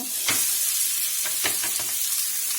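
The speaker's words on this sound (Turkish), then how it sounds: "Şimdi dökelim bulgurumuzu." Dry bulgur tumbles into a hot pan of toasted, pinkish vermicelli, giving a steady sizzle with a few soft stirring scrapes and grainy rustles over about two and a half seconds.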